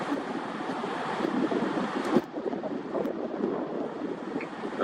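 Ocean waves wash onto a beach in a steady broad rush with wind buffeting the microphone, a continuous roar without distinct breaks.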